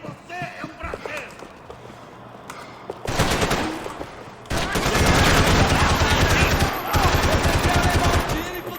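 Gunfire in Max Payne 3 comes as loud, sustained automatic bursts, starting sparse and building into heavy continuous shooting with overlapping shots; people talk alongside it.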